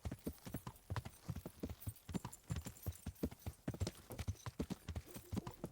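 A horse trots in a video game, rhythmic clip-clop hoofbeats repeating steadily in quick pairs, fairly quiet and close with no talk over them.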